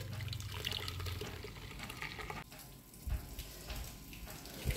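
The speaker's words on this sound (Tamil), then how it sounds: "இப்போ நம்ம இதில் ஃபில்ட்ரு பண்ணிடலாம்." Freshly blended juice is poured through a filter, giving a faint, steady liquid trickle and splash with a few soft knocks, and no voices.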